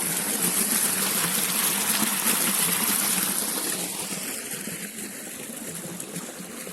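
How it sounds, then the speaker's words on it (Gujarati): Well water gushes through a farm irrigation channel past papaya and lime plants, a loud, continuous rushing flow that gradually eases toward the end. "આટલું પાણી આવે છે કૂવાનું"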